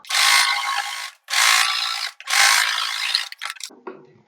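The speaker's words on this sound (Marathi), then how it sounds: "डबल स्टिच घ्यायची." A sewing machine running a double stitch on blouse lining fabric, three steady mechanical bursts of about a second each with short pauses, followed by faint handling clicks and rustle.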